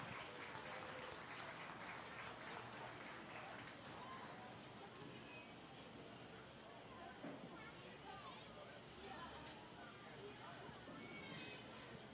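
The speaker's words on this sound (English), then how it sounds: "Everybody give them a round of applause." Sustained applause from an audience at a 4-H county fair swine show fills the space, a steady wash of clapping with crowd murmur that stays even throughout.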